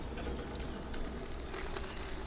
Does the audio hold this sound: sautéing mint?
yes